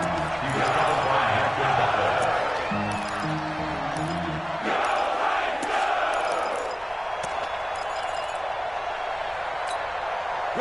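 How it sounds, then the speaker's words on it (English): A crowd in a video game football broadcast cheers and roars through the first half and then settles into a steady background murmur, with a commentator talking over it. "the crowd getting into it as we come up on a big 3rd down"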